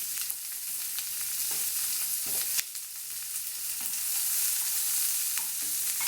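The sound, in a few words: stirring sliced onion frying in a pan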